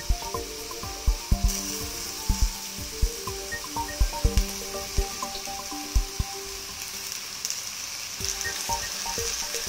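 Washed anchovies drop into a hot pan and sizzle steadily, with sharp crackles and spatters rising over a continuous frying hiss and occasional stirring scrapes, close and fairly loud, with no talking.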